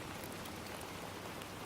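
Steady rain falls in a dense, even hiss with no breaks or speech, a continuous wash of drops on surfaces.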